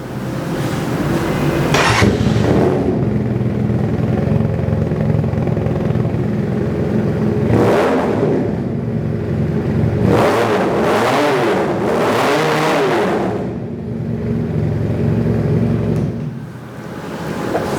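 A 400cc Harley-Davidson replica motorcycle built by OW Motors idles with a deep, throbbing engine note, then gets revved several times, each blip rising and falling in pitch, loud and close with no talking.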